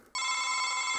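An electronic telephone ring in a Fixiki cartoon, a bright steady multi-tone chime that starts abruptly and holds for about a second, loud and alone.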